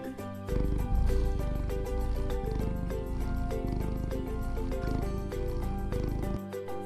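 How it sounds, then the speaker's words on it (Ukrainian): A soft, steady purring rumble from a cat, continuous and close, with a faint tonal background underneath. "Так, котик муркоче."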